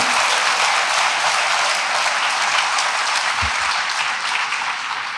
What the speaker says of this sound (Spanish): Esta gente merece un aplauso